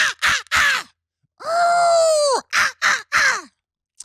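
A voice imitates the call of an invented bird called an emerald-tailed sky lancer: a run of short squawking caws, then one long warbling screech, then three more sharp caws, loud and close.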